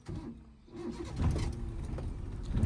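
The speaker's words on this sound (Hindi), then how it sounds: "वापस क्लच दबाओ, इंजन स्टार्ट करो" A car engine being restarted after stalling in first gear during a clutch-control lesson: a low rumble builds into a steady running engine, close and fairly loud, with no voices.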